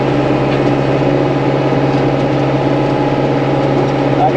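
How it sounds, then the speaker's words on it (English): A four-wheel-drive cab tractor engine runs steadily at a constant idle-like drone, loud and close, holding an even low hum throughout with no speech. "So I'm using the cab tractor today because it's"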